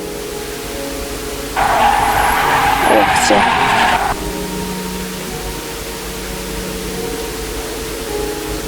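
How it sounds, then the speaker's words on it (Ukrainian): A Zhiguli car from a Minecraft 1.12.2 mod pack revs loudly with a skidding, tire-squealing burst for about two and a half seconds, then drops back to a low engine drone; a voice speaks briefly. "Це, по-моєму, найшвидша машина в цьому парку."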